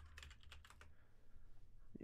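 Quick bursts of typing on a computer keyboard, a rapid flurry of clicky keystrokes in the first second followed by quieter, sparse taps.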